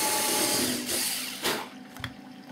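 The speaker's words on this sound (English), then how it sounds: "So let's get those drilled." Power drill boring holes for small bolts on an Edge 540 model airplane, a steady whirring burst through most of the stretch that cuts off, leaving a few short clicks and handling noises.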